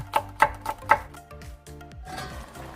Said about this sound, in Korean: 홍고추 한 개를 썰어주세요